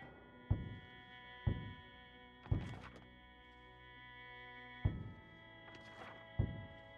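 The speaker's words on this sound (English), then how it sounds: "I think someone's shooting out there." Muffled gunshots from outside a building in the zombie survival game Project Zomboid, five dull thumps spaced irregularly over a steady background hum, with faint clatter after a couple of them.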